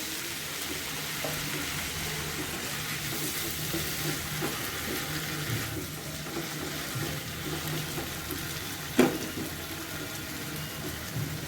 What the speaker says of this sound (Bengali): চিংড়ি মাছটা দিয়ে আবার কষাবো। সামান্য আমি জল দিয়ে দিলাম।